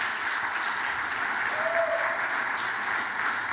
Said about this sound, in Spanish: Alguien que diga amén a eso y que aplauda fuerte al Señor.